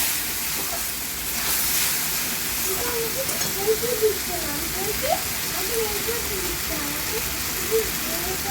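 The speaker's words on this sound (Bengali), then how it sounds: "দেখো বন্ধুরা, গরম মশলাটা দিয়ে ভালো করে আমি কষিয়ে নিচ্ছি আবারও ডিমগুলো।" Eggs sautéing with garam masala in a pan of hot oil for an egg curry give a steady sizzling hiss throughout, with a voice talking over it.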